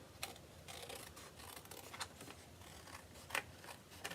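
Scissors snipping through cardstock along a white guide line during card making, a series of quiet, crisp, close-up cuts at an uneven pace with short pauses between strokes.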